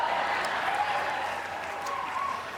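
Audience applause fills the ballroom at the 80th Golden Globe Awards at The Beverly Hilton, a steady, moderately distant wash of clapping that holds for a couple of seconds.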